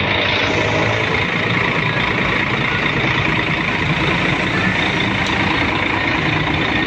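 A Mercedes O500 double decker bus engine idling, a loud, steady, dense rumble with broad hiss, heard close and without a break.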